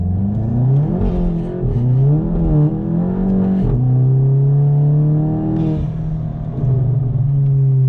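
A Stage 2 tuned 2016 VW Golf GTI accelerates hard from a 20 km/h rolling start, its engine note climbing steadily through several rising sweeps with brief dips at gear changes, loud and close from inside the cabin with no talking.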